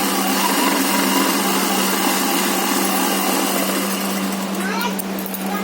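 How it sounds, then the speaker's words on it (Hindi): A sewing machine runs a double line of stitching on a pair of trousers with pockets, its motor whirring loudly and steadily throughout, easing slightly near the end. "इसको मैं डबल सिलाई कर दूंगी"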